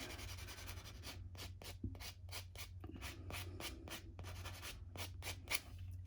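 Quiet, quick rubbing strokes of a buffer on a fingernail, a soft rhythmic scratching repeated many times at close range.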